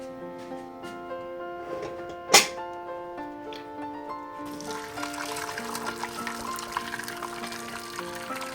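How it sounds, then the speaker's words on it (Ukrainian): Water pours into a cooking pot already holding onions and bay leaf for an English-style bean dish, a steady splashing trickle that starts midway and continues, with a sharp clink just before it and a faint hum underneath. "І додаю води."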